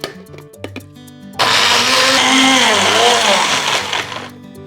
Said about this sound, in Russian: В блендер мы помещаем наши зерна, заливаем их водой и 5 минут это все размалываем на максимальной скорости